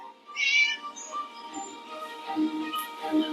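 A cat meows several times in the game Scary Teacher, fairly close, over a faint steady tonal background.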